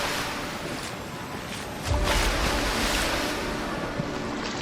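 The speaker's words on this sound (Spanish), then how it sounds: "La manada de ñu se precipitó al agua. El lodo se levantó por los aires, el agua turbia se rompió en altas columnas." Heavy, steady rush of churning river water from a wildebeest herd plunging in, loud and continuous with wind noise, swelling into a deeper surge of splashing partway through.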